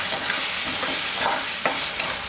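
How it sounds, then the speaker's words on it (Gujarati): Peas and tomatoes cook in a pan for a Gujarati vatana tameta shaak, a loud, steady close-up sizzle broken by a few light scrapes of stirring. "અને આપણે વટાણા નાખીને 2 મિનિટ પકાવી લેવું ટમેટા ભેગું"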